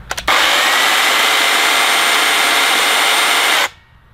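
A Stihl MSE 190 C-Q electric chainsaw whirs at full speed with a loud, steady high whine for about three seconds, then stops abruptly as the chain brake engages, leaving near silence.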